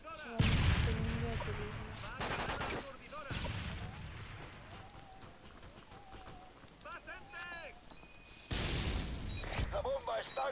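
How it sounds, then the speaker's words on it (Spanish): Stun grenade going off during a Modern Warfare 3 match, with bursts of game gunfire and footsteps around it and speech running through the action; louder blasts mark the start and the end. "Tiro granada aturdidora"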